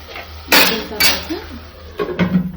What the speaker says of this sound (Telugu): మూత పెట్టుకుని మగ్గించుకుందాం